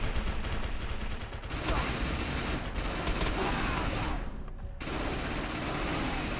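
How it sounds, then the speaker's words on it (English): Corrosive shotguns fire in a multiplayer video game as a dense, continuous barrage of loud gunfire with overlapping blasts and brief pauses. "Actually, I've got corrosive shotguns."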